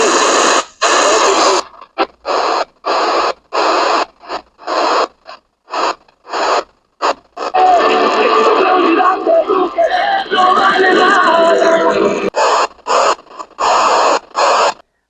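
A small emergency radio tuned across the AM band, giving loud bursts of static, crackle and faint station audio that cut in and out in choppy segments, then a longer stretch of steady hiss before more stop-start bursts.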